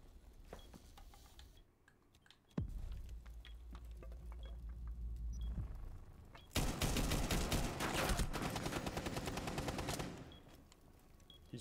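Rapid automatic gunfire in Rainbow Six Siege blasts through a wall in two long sustained bursts, loud and close, with a sharp crack at the start and quieter ticking and clatter between the volleys.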